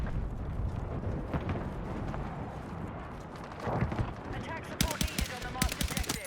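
An M27 IER rifle in Battlefield 6 fires single shots, the sharp cracks scattered amid battlefield rumble and distant gunfire, then coming in a quicker cluster of loud close reports near the end.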